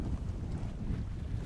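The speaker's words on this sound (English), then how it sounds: "we're still getting a lot of wind," Strong wind at sea buffets a sailboat offshore on a passage to the Caribbean, a loud, dense rushing roar with broadband gusty noise, brief and continuous.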